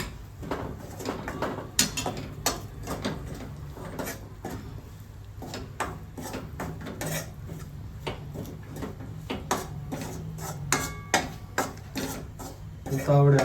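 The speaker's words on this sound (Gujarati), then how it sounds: "ધીમા ગેસ ઉપર આપણે આ લોટ શેકવાનો છે" Flour roasts in ghee over low gas for sukhdi, with a spoon scraping and clinking against the pan in an irregular stirring rhythm, close and moderately loud, with faint voices in the background.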